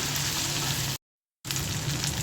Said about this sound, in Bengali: ভালো করে ভেজে নেব তেলের মধ্যে